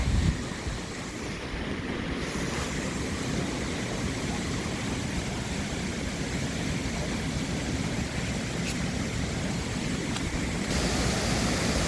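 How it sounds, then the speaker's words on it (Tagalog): Waterfall heard from the top of a hill where the falls begin, a steady broad rushing roar with some wind buffeting the microphone, constant and unbroken. "nandito na tayo sa tuktok na kung saan nanggagaling yung falls"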